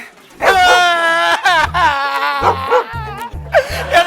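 A dog barks repeatedly in short, loud yelps and howling bursts, close by, with an uneven rhythm, in a comedy stage show.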